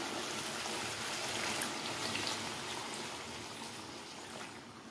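Water poured into a pot of cooking mutton and potato curry, a faint, continuous splashing trickle that stays soft and even from start to finish with no voices.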